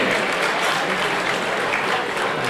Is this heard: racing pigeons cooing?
no